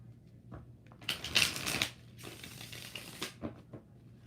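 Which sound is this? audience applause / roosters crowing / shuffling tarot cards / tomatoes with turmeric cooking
shuffling tarot cards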